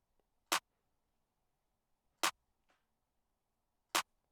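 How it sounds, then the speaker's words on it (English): Three sharp, isolated claps from a trap beat hit at even intervals of almost two seconds, loud and dry against near silence. "So moving on with the clap, again, extremely simple clap pattern."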